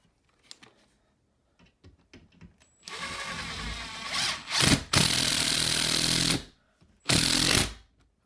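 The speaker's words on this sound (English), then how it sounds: "we're gonna put one more screw where the stud is" Power drill driving a screw into a wall stud while mounting a floating shelf, a few faint taps first, then loud whirring bursts with brief stops and a final short burst, close by.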